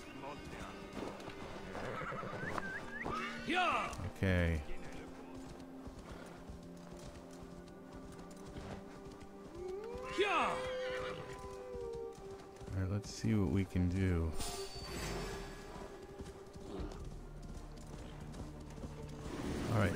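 Horse hooves clip-clopping with repeated neighing and whinnies in Assassin's Creed Valhalla, mixed with game effects while a person talks over it.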